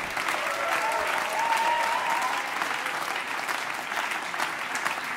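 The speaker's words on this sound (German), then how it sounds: "Applaus." Sustained applause from a live jazz concert audience, steady and fairly loud throughout, with a faint tonal hum briefly audible beneath.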